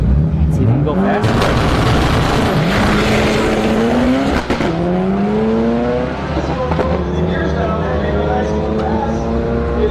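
A drag-racing Ford Escort with a Mazda BP engine revs hard and climbs through rising gear pulls, loud and close, with tire squeal and a voice talking underneath.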